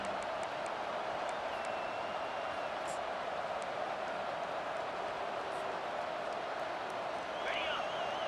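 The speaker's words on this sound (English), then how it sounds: "Decibels rising as the crowd gets behind this defense on 3rd down." A stadium crowd roars in the College Football 25 video game during a third-down defensive stand, a loud, dense and steady wall of noise that swells slightly near the end.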